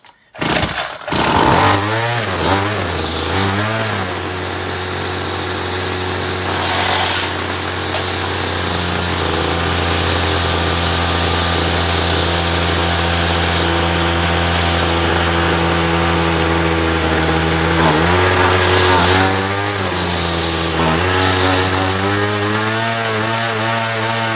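A 26cc Homelite weed eater held at full throttle drones loudly and steadily, the engine bogging and surging in pitch as though starved of fuel, running close up and alone with no voices.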